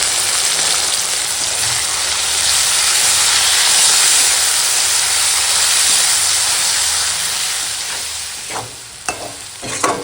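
Green chillies and turmeric fry in cumin-tempered oil with onion, making a loud, steady hissing sizzle with stirring throughout, then a few sharp clinks of a utensil as it eases off near the end.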